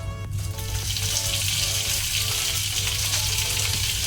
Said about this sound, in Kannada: ಸ್ವಲ್ಪ ಲೋ ಫ್ಲೇಮಲ್ಲಿ ಫ್ರೈ ಮಾಡ್ಕೊಳ್ಳುವ